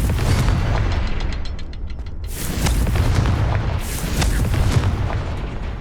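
Repeated booming blasts of the Confringo fire curse in Hogwarts Legacy, loud and full, two bursts of sharp crackling debris spaced a couple of seconds apart over a constant rumbling game background.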